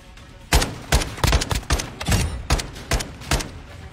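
Sharp, loud AK rifle shots in a video game, fired in about nine short bursts and single cracks spread across the stretch, each with a brief echoing tail and no talking.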